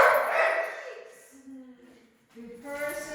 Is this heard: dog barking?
yes